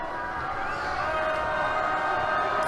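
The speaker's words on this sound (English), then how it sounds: "This crowd is loud." A loud high school basketball gym crowd roars steadily through the closing minutes of a tight boys varsity game, a constant wash of cheering and shouting with squeaks and chatter mixed in.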